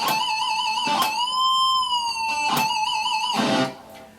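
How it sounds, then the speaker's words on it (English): An electric guitar pinch harmonic, squealing high and sustained, bent up and down in a rhythmic pattern with wide vibrato, picked freshly about three times before fading, heard alone. "practice applying a series of rhythmic bends on top of a pinch harmonic"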